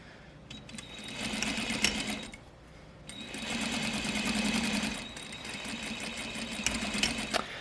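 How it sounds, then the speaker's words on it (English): A sewing machine stitches a garment seam near an invisible zipper in two bursts of steady whirring, pausing briefly between them, close and fairly quiet, with a few sharp clicks. "I am going to sew the rest of the seam from here all the way down"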